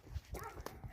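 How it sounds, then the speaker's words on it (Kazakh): A small female puppy gives a few faint, short yaps and whimpers outdoors on an evening walk, distant and quiet against low background noise. "Орғашы күшік келген."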